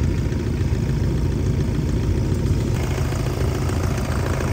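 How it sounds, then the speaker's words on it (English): Camper van engine idling in arctic winter cold, a steady low droning rumble heard up close, unchanging and without talk. "leave it idling for a bit and hopefully that helps warm the gearbox."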